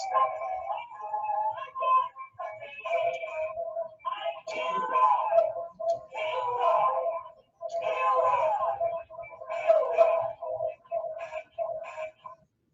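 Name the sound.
song excerpt with sung chorus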